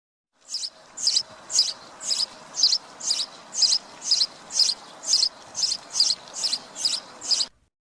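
A sparrow chirps in a steady series of about fourteen short, bright chirps, evenly spaced roughly half a second apart, close and clear with no other sounds.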